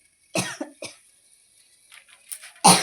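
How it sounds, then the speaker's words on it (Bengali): A few sharp coughs close by, a quick pair then a single one, followed by a quieter pause and one more harsh cough at the end. "আর কাশি হচ্ছে"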